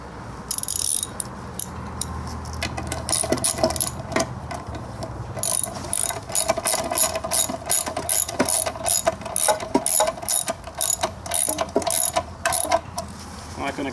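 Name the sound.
ratchet cranking bench bolts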